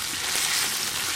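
Onion, ginger and garlic paste frying in hot oil, a steady, dense, close sizzle with no breaks.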